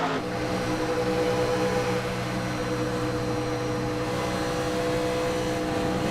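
IndyCar engine on the Chicago street circuit, a loud sustained droning note as the driver lifts off the throttle before a bump, with no talk over it.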